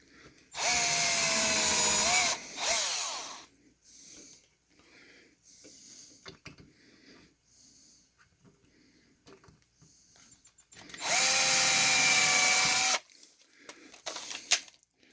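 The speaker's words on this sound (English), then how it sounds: "So I just use the same 1-inch Robertson screws here to secure it." Power drill driving 1-inch Robertson screws to secure Wiremold, two loud close whirring bursts of a couple of seconds each, rising in pitch as the screw seats, separated by quieter handling noises.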